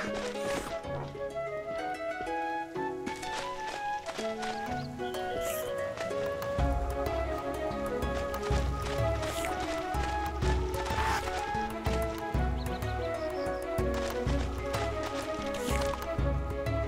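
Horse hooves in the video game Goat MMO Simulator clatter in a steady running rhythm, set against a dense wash of game music and effects.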